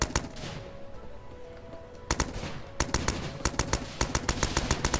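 Grenade launcher fire in the video game Starbound comes as a run of sharp, punchy shots, a couple of isolated blasts first and then a rapid regular volley over a steady game background.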